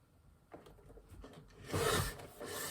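Paper trimmer or blade slicing a thin strip off a piece of card for a tag, heard as a quiet close scraping rasp that swells into a louder rubbing stroke near the end.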